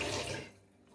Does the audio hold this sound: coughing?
no